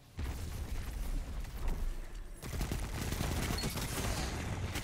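Gunfire in a Destiny Trials match rattles almost continuously, with dense overlapping shots and loud bursts that briefly thin out before the firing resumes.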